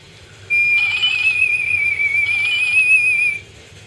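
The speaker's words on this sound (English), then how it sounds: "She lights up and makes little spooky sounds." A Monster High Ghouls Alive toy doll makes a thin, wavering electronic whistle-like tone that rises and holds for about three seconds, eerie and warbling, then stops abruptly.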